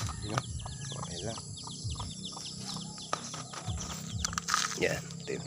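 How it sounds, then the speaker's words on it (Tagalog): Farm chickens on a Philippine smallholding cluck and chirp intermittently in the background, fairly faint, mixed with outdoor ambience and birdsong. "Yung mga alagang manok dito."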